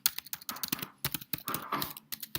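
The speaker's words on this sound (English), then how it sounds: "type a message" Fingers type a message on a computer keyboard in quick bursts of close, crisp key clicks, pausing briefly between groups of strokes.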